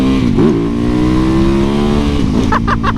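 A small, lightweight motorcycle engine revs steadily up close, its pitch climbing and holding high, with a few sharper throttle blips near the end.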